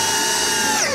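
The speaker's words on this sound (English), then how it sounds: "So this is the subcompact, it's a smaller drill." A subcompact Temu power drill whines at high speed, a steady, loud motor tone held close for about a second, its pitch sliding slightly near the end.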